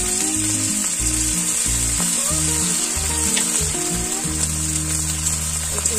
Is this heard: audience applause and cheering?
no